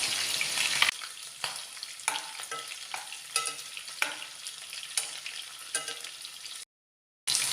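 Chicken pieces frying in hot oil for a Manjali chicken biryani, a steady sizzle broken by repeated stirring scrapes, close and fairly quiet, with a short silent gap near the end.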